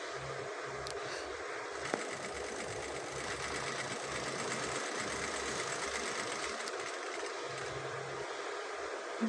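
A sewing machine stitches with a steady, moderately quiet mechanical whir and a faint rhythmic low thrum that runs without a break. No voices are heard.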